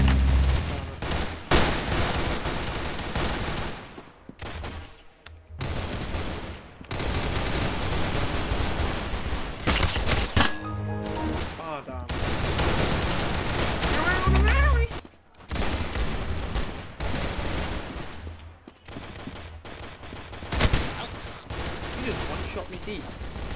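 Roblox Arsenal shooter gameplay: a loud, fast stream of gunshots and automatic fire arriving in repeated bursts with brief gaps, close and punchy, while a player talks at times underneath.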